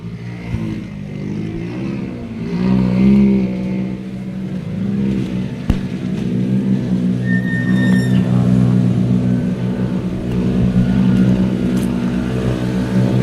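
A four-wheel drive rally car at a stage start line revs hard, then launches and accelerates away, its engine note climbing through gear changes in a loud, sustained roar close by.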